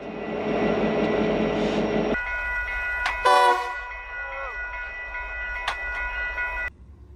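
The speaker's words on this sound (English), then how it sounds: "Watch the Union Pacific rotary snowplow train in full snow clearing operation." Union Pacific rotary snowplow train clearing snow: a loud, steady mechanical roar and rumble under a sustained multi-tone horn, with a sharp clattering burst partway through before the noise cuts away abruptly near the end.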